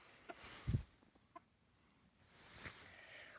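Backyard chickens cluck faintly during feeding time, a few soft, scattered clucks at a distance, quiet and alone.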